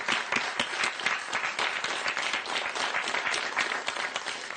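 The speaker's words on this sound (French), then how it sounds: "on peut l'applaudir bien fort quand même parce qu'il s'est bien battu" Audience at a French slam poetry event applauding a Marseille performer, with dense, steady clapping from a crowd that continues evenly throughout.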